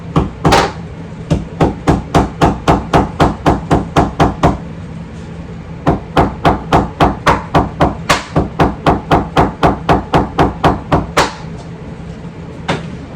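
Leather on a scrap of vinyl is struck with a hammer in steady runs of sharp, loud, close blows, two long series broken by a brief pause, no talking.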